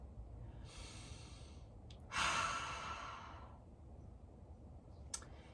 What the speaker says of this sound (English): Enjoying a little breathing and just feeling into all the alignment of that.